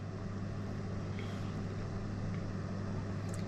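A 1973 Chevrolet Nova engine idles steadily nearby, a continuous low rumble with a deep knocking, pounding undertone running through the whole stretch with no voices.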